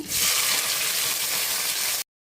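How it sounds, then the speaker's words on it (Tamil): Sliced onions sautéing in a pan with poppy seeds and fennel give a steady, loud, close hiss and sizzle that cuts off abruptly after about two seconds. "கொஞ்சம் நேரம் வெங்காயம் வதங்கட்டும்."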